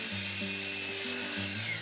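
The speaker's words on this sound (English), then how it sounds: "There's a drop saw." A drop saw cuts wood on a construction site, a steady mechanical whine with shifting tonal pitch that rises and drops across the cut, loud and continuous throughout with no talk.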